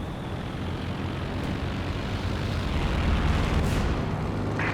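Bomber aircraft passing overhead in Company of Heroes 2, a steady broadband engine drone that swells slightly near the middle and holds loud through the whole stretch, with no voices over it.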